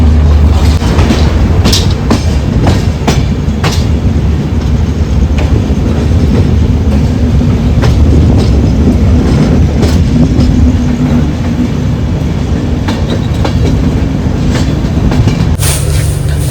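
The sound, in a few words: double decker train moving, Rajasthan to Delhi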